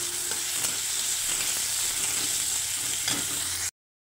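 Chopped onion and tomato fry in a hot pan, a steady close sizzle with occasional stirring scrapes, continuous for nearly four seconds before cutting to silence.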